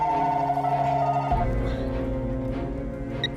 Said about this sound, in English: Karla uses her cell phone to call their home line